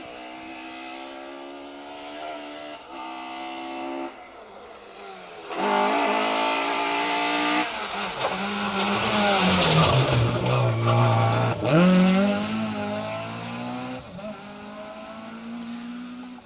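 A rally car on a tarmac stage of the Down Rally in the Northern Irish Tarmac Championship roars past, the engine rising and peaking loud before fading, with tyre noise and a faint voice in the background.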